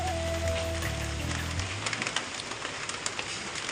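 Rain falls steadily around a rabbit shed during a storm, a dense hiss with scattered close drips and taps, while a low droning hum fades out in the first half.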